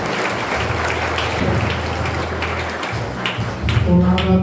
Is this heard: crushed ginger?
no